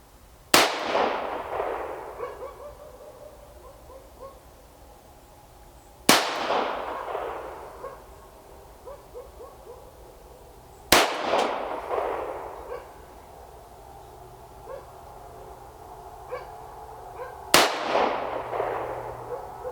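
A Ruger Mark I Target pistol fires four sharp, loud reports spaced about five seconds apart outdoors, each followed by a ringing echo that fades. No one speaks.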